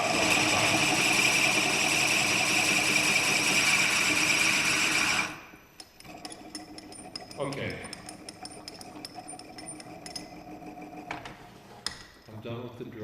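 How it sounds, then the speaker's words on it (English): Drill boring into wood while making a honey pot, a loud steady whine for about five seconds that then stops, followed by quieter handling clatter and talk. "I'm done with the drilling for now."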